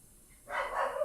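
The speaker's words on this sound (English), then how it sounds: "sorry about the dog" A dog barks once nearby after a quiet moment, a short muffled bark in an indoor room.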